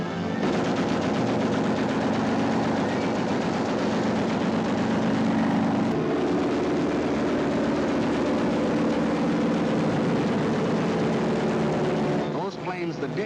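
Luftwaffe aircraft over Poland in archival footage: a dense, continuous roar with rattling, gunfire-like crackle filling the whole stretch, while someone narrates over it.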